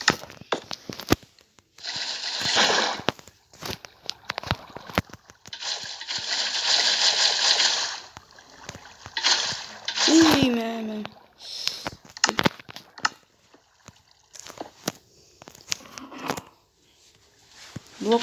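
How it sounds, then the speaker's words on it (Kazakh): Water from a Minecraft pool splashing and sloshing in bursts, loud choppy spurts separated by short quiet gaps, with brief clicks between them. "Су екен, бассейннен су"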